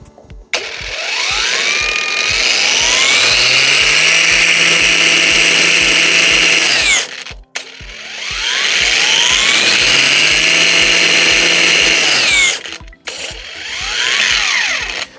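Parkside PWSAP 20 cordless angle grinder grinding hard under pressure, loud high whine that bogs down and recovers in two long runs, each ending with a sudden stop, then a shorter third burst.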